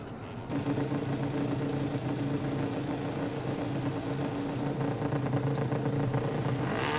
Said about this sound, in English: The revs are rising.